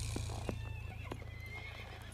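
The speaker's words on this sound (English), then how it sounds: "I'm controlling the horse." A horse ridden at a walk, with a whinny and a steady clip-clop of hooves close by, alone without talk over a constant low rumble.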